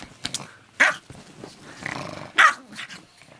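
A hyper dog growls and lets out sharp barks, with two loud bursts standing out over a rumbling growl, close and loud throughout.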